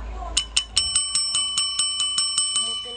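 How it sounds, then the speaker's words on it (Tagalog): A small metal bell rings about a dozen times in quick, even succession, each ring bright and close with a clear sustained tone, and no talking over it. "Ito siyang bell."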